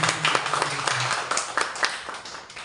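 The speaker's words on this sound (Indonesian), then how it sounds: "Tepuk tangan dulu buat Kak Sonia" Audience clapping at a Media Talk event on ending violence against women and girls, a dense, steady patter of many hands lasting a few seconds with no voices over it.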